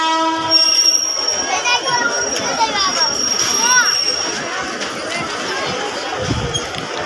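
Train being moved backwards at Shyampur railway station, rumbling wagons with squealing wheels and tonal horn-like tones, heard under nearby talk.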